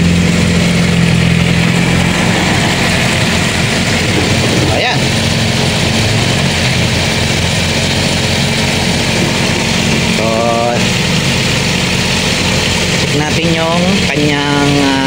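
A small engine running at a steady, loud idle with a constant droning hum throughout, while people talk briefly over it.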